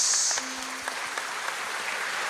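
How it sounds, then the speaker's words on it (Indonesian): Audience at a lighthearted roast event between two priests giving a round of applause, a steady, even wash of many hands clapping, moderately close, with a brief tonal sound at the start. "tepuk tangan untuk OKS."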